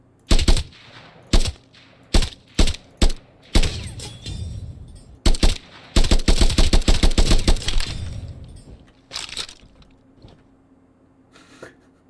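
Gunfire in a video game with ragdoll physics: loud sharp single shots in a loose rhythm, then a rapid automatic burst, trailing into scattered quieter shots, no voices.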